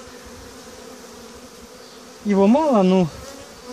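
Honey bees drone in a steady, dense buzz around an opened hive box during a spring inspection, the hum continuous and close, with someone speaking briefly near the end.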